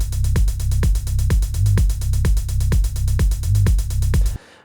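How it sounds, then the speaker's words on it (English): Crisp 909 hi-hat sample ticks out driving sixteenth notes in a techno groove, a tight relentless pattern riding over a thumping kick pulse, cutting off abruptly near the end. "It's just like this driving hi-hat sound like this."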